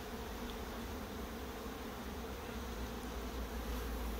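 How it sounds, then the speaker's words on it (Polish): Steady buzzing drone of many honeybees flying close by at an apiary during the linden bloom, continuous with no pauses and no voices. "pszczoły ostro pracują, jak widać. Latają aż miło."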